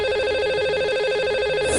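A call is placed to a lucky caller on a live phone-in show: a steady, warbling telephone ring tone pulses evenly for under two seconds, clear and alone with no voices.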